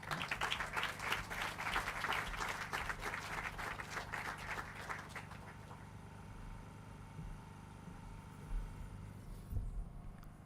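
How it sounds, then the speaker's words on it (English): Audience applause at a housing authority groundbreaking ceremony: dense, lively clapping for about five seconds, then dying away into quiet room murmur with a few faint scattered claps. "One more round of applause, please."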